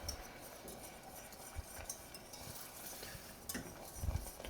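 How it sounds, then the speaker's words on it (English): A whisk stirs broth into a pan of gravy for poutine, giving a faint, steady scraping and swishing with light clinks of metal against the pan and no talking. "Use a whisk just to whisk it in nicely."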